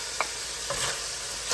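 Garlic hitting a hot pan of browning Italian sausage sets off a steady sizzle, with a few brief scraping stirs punctuating the close, even frying hiss.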